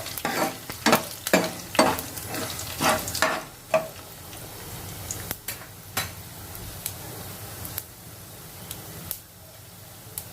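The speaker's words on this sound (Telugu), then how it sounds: "అన్నీ బాగా వేగుతున్నాయి. ఇప్పుడు ఒకసారి మనం అన్నీ కలుపుకుందాం." Tempering spices crackle and fry in oil for a bitter gourd dish, with loud scraping stirs and clinks of a spoon against the pan coming in rapid bursts, then easing to an occasional stir over a continuous sizzle.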